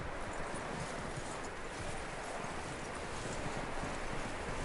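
Steady clip-clop of horse hooves in Red Dead Redemption 2, at a brisk, continuous rhythm, close and fairly loud over a dense, noisy background.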